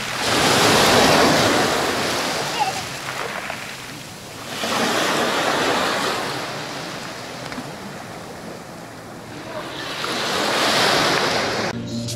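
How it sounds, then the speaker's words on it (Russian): Sea waves wash in and out on a pebble beach at Yalta, three loud rushing surges with quieter pauses between, with wind noise on the microphone and no voices. "посидеть на пляжной гальке, послушать шум воды, подышать морским воздухом"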